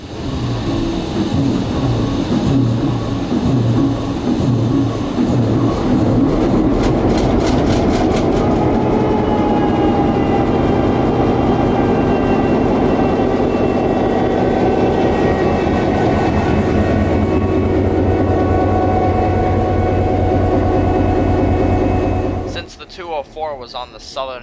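A CF7 diesel locomotive, number 204, at a railway museum near Parrish runs loud and close, its engine droning steadily with rumbling and rattling before cutting off abruptly near the end, with voices talking over it.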